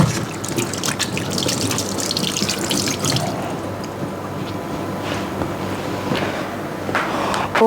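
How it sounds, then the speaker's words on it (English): A kitchen tap runs steadily into a sink while hands are washed beneath it, a continuous close splashing stream with small shifts in the flow and no talking. "I'll wash my hands first"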